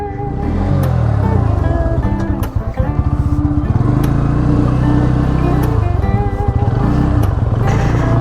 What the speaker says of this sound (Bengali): এই বাইকটা আমি এখন টেস্ট ড্রাইভ দিয়ে দেখি কেমন পারফরমেন্স দিয়েছে